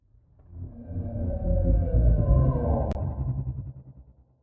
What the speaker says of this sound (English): Here's the layer that's made from whale vocalizations.